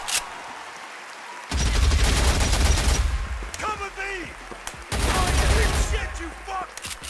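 Loud bursts of rapid automatic gunfire from the video game Deathrun TV come in two long volleys with a short pause between them, while a voice talks over the shooting.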